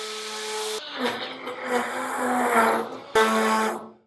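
A blender whirs in short pulses through a soap mixture being stirred toward trace, a steady motor hum that cuts out and restarts, loud and close, with the pitch wavering as the thick liquid churns.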